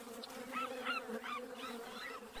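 A dense, droning buzz of many bees swarming close by, steady and continuous with wavering pitch, no voices.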